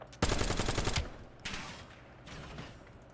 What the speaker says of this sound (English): They spawn in and I'm just instantly shooting them.